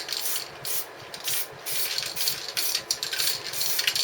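Aerosol spray paint hisses from a can in short repeated bursts as a final light dust coat goes onto a Triumph project car in a garage, close and steady with brief pauses between passes.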